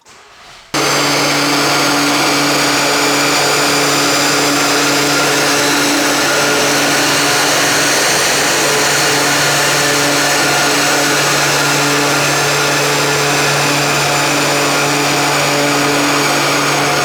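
A tuned Audi A3 TFSI running flex-fuel E85 with a stage 1 remap drones steadily on a power dyno, a loud, sustained engine roar holding an even pitch throughout after a brief quieter start.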